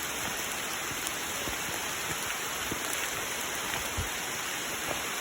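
Steady rain falls on a mountain trail in the woods, a dense even hiss with scattered drops tapping close by, continuous and moderately loud with no voices.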